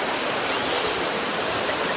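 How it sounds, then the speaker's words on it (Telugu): The Ananthagiri waterfalls pour in a dense, unbroken roar of falling water, close and loud throughout. "ఇక్కడ అనంతగిరి వాటర్ ఫాల్స్ నిజంగా నేచర్ మనకి ఎంత బ్యూటిఫుల్ వాటర్ ఫాల్స్ ఇస్తుంది"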